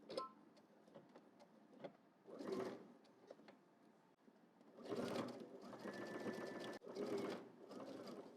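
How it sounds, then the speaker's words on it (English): A sewing machine bastes a seam at 5/8 inch, running in faint bursts with pauses between, the stitching rhythm growing steadier and louder in the second half. "We're gonna go ahead and baste all the way across using 5/8 of an inch seam allowance."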